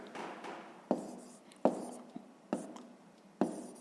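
Numbers written by hand on paper while working a fifth-grade fraction exercise: a quiet series of sharp pen taps and scratchy strokes, about five distinct hits with soft rubbing between them, close up.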